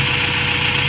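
Car engine idling steadily with a new DIY intake while running very rich, a continuous close, loud rumble with a slight uneven pulse and no voices.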